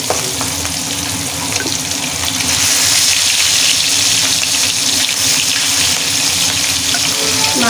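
Pieces of hilsa fish lightly frying in oil for a bottle gourd curry, a loud continuous hiss and sizzle that thickens partway through and carries on without a break, no talking.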